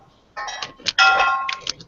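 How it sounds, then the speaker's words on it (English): Metal wind chimes clang in a few bright, ringing bursts, loud and close, their tones sustaining and overlapping with no one speaking. "Those are serious wind chimes run."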